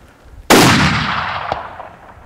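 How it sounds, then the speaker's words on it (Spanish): A single sharp rifle shot fired while hunting Barbary sheep in the Spanish mountains, loud and close, followed by a long rolling echo and a fainter crack about a second later. "con un primer disparo certero que no dejará ir muy lejos al animal"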